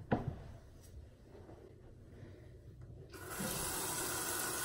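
Tap water runs into a sink while a face mask is rinsed off. The flow is quiet at first, then turns into a steady, full gush for the last second or so, with no talking.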